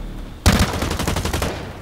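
A loud, close burst of rapid automatic gunfire in the shooter video game Blacklight: Retribution, erupting abruptly and rattling for about a second before stopping.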